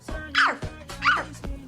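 A woman imitates a dog, giving several short, yelping barks in a row, close and fairly loud, like a playful bow-wow.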